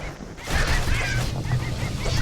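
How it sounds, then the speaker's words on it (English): Many bird wings flap in a dense, fluttering rush in the video game Bastion, a loud continuous beating swell that stays busy throughout. "Then the kid hears an unusual sound, like 100 flapping wings."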